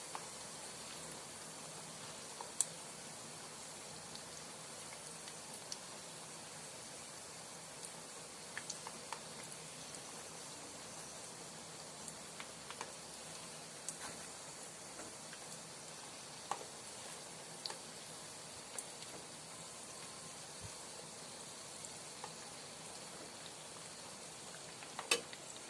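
Samosa sheets fry in hot oil with a soft, steady crackle and scattered faint pops, low and continuous with no voices.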